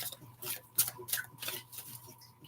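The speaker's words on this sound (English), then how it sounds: "Just doing some pre-shuffling." Tarot cards being shuffled by hand, a run of soft crisp riffling flicks and ticks at close range under a low background hum, with no talk over it.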